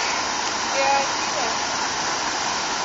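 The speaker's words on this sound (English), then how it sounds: "That's a nice waterfall." Water pours steadily out of rock at a waterfall, giving an even, continuous rush that fills the scene, with a brief human sound faintly mixed in.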